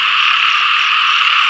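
Many frogs croak together in a wetland where they are being caught, forming a loud, unbroken buzzing chorus that stays even throughout.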